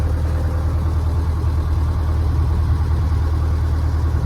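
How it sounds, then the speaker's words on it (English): A narrowboat's engine on a canal gives a steady, low, chugging drone that holds fairly loud and even throughout, with no voices. "there's a narrowboat now coming"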